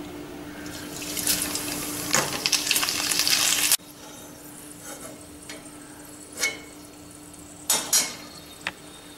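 Manathakkali vathal, small dried berries, frying in oil on a low flame, a loud steady sizzle and crackle for a few seconds, then quieter with sparse stirring clinks and scrapes.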